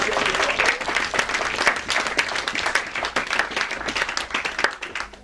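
A church congregation claps and applauds during a sermon, a dense, continuous wash of hand claps close by with some voices mixed in.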